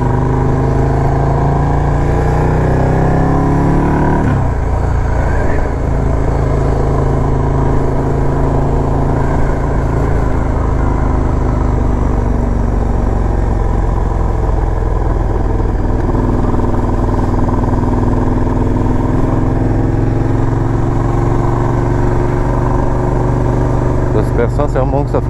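A KTM motorcycle rides a small quiet road, its engine droning loud and steady throughout with heavy wind rumble, pitch shifting as it accelerates and shifts.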